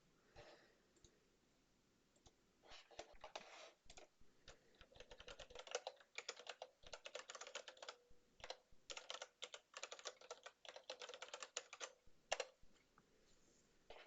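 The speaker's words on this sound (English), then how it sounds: "For this demo, we will simply type the command in a terminal." Someone types a command into a computer terminal, a long run of quick, close keyboard clatter in uneven bursts, starting with a few scattered taps, then dense typing with brief pauses.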